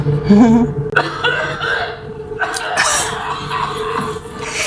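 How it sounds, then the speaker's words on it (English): Wet, raspy coughing from The Walking Dead Season 5 Episode 7, mixed with voices and game-like background noise, fairly loud and close. "He's coughing up strawberries."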